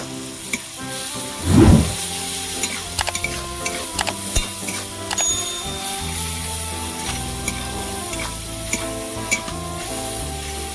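Garlic paste fries with tomatoes in a pan, a steady close sizzle with a brief louder surge of hissing early on and scattered light scrapes of stirring, no talk.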